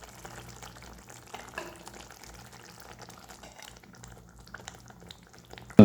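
Masala and tomato kurma bubbling in a pan, a soft steady simmer of popping and sizzling, close and fairly quiet throughout, with no voices.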